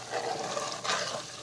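Brown butter ghee sizzles and bubbles in a pot as it is stirred, a close, steady frying hiss with a brief louder scrape at the end.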